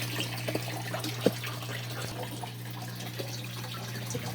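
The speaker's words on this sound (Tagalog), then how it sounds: "Kuha muna tayo ng ating tubig." Water runs quietly from a tap into a container, a soft steady trickle with occasional light splashes and drips, collected for a goldfish aquarium.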